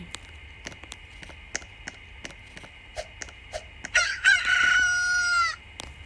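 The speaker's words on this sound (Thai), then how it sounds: "เสียงไก่ดังแท้โอ้ไก่อยู่ตรงนู้น" A video-game rooster crows once, a loud drawn-out call, amid scattered short clicks and a steady background hum.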